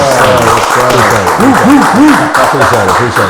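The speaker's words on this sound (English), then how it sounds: "Let's give a big hand clap for Kevin Baker tonight." A talk-show studio audience applauds and claps hands steadily for a few seconds, moderately loud, while a voice speaks over the clapping.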